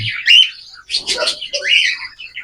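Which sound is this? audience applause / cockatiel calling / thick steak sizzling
cockatiel calling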